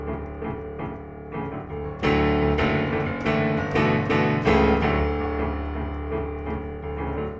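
Low, bouncy piano chords played in the bass register with a deep rumbling low end, struck in a steady rhythm that grows louder midway and then rings out, with no voices.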